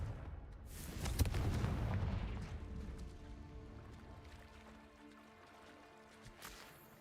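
Fiery blast from a Confringo curse in Hogwarts Legacy, a deep booming burst that swells then rolls off into a long low rumble, with no talk over it.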